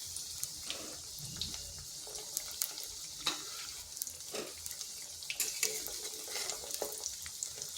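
Drumstick flower fritters fry in a pan over medium-low heat, giving a steady close sizzle with occasional light clinks and scrapes of a utensil, no voices.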